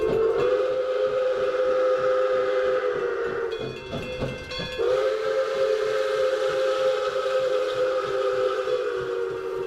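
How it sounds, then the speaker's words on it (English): The 1225 steam locomotive, the North Pole Express, sounds its steam whistle while leaving the station in Owosso, Michigan. It is a loud, sustained blast over the chugging and rumble of the train, with one brief dip partway through. "the 1225 steam engine, now known as the North Pole Express, is leaving the station in Owosso, Michigan"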